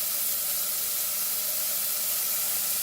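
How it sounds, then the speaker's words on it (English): Onion sautéing in a pan with vegetables for cabbage rolls, a steady broadband hiss and sizzle that holds evenly throughout at close range with no talking. "I will add onion to this and saute this"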